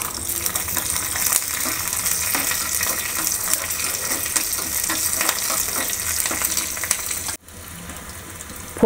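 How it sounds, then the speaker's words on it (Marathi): Green chillies and cumin seeds sizzle and crackle in hot ghee for a tempering, a steady dense frying hiss with brief stirring, cutting off sharply near the end to a quieter hiss. "तूप गरम झालं की त्यात आपण मिरच्या टाकूया आणि जिरं टाकूया."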